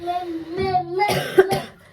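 A few harsh, close coughs burst out in quick succession, following a moment of voice-like humming.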